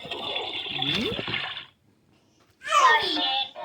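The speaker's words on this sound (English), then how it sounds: "Flush and be on your way." Toilet flushing in a children's potty-training show, a rushing water burst that cuts off, then a second surge of swirling water; a voice and singing are heard around it.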